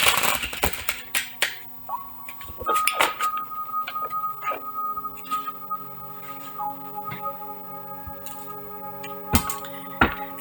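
Tarot cards being shuffled up close: crisp papery snaps, flicks and riffling clicks in irregular bursts, over a faint sustained musical drone.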